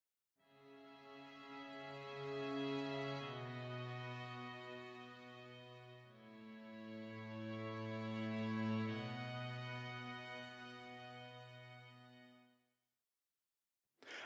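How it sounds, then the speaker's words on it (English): A full strings synth patch in MainStage, with added reverb, plays two long sustained chords that swell and fade softly, with no other sounds around them. "So now let's listen to what the full strings sound like."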